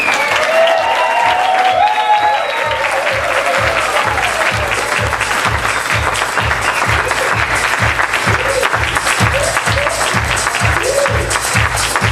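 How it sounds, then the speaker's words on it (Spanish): Sustained applause from a large audience, dense steady clapping lasting several seconds with faint crowd murmur underneath. "Por favor, un gran aplauso por el Señor"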